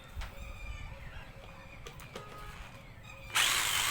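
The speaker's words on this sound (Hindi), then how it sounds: "और ये अपनी ड्रिल सही चल रही है दोस्तों" A repaired hammer drill on mains power switches on abruptly near the end, jumping from near quiet into a loud, steady, close-up motor whine with no talk.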